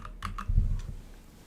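Quick clicks of computer keys typed in a short burst of several keystrokes, close and fairly soft, over a low background rumble.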